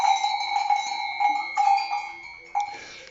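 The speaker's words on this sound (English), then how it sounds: "The nanny bell." A nanny goat's bell on Kefalonia rings in repeated metallic clangs with bright sustained overtones, close and fairly loud, with a sharper strike near the end.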